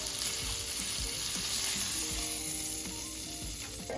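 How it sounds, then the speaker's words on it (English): A steak sizzles loudly and steadily in butter as it comes off the heat, a dense unbroken crackle with faint scraping underneath and no voices. "So now we're just gonna take the steak off of the heat"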